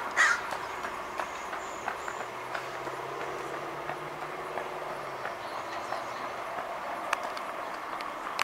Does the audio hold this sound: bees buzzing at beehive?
no